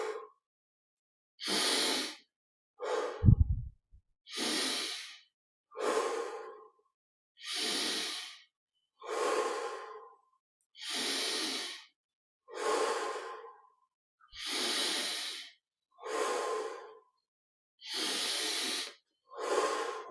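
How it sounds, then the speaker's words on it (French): Slow, deliberate breaths during a guided meditation, drawn in through the nose and released through the mouth: about a dozen close, airy breaths, evenly spaced with silent gaps, one with a sharper snort-like burst. "Inspire par le nez. Expire par la bouche."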